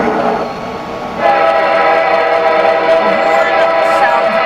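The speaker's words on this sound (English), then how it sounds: "The horn sounds amazing." Horn of a BC Rail freight train in the Rails Unlimited train game, a loud sustained chord that swells in partway through and holds to the end.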